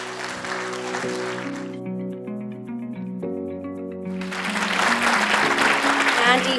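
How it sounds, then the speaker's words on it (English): At an Asian Fire Service Association conference, an upbeat musical passage plays alone, then a broad swell of audience applause rises loudly over the continuing music for award recipients. "Receive your rightful applause."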